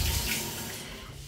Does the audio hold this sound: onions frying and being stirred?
no